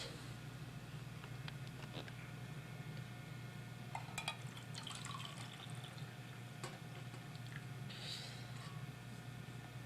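Cabbage cooking water is poured into a pot in a 1994 home kitchen, a soft continuous watery trickle with a few small splashes over a low background hum.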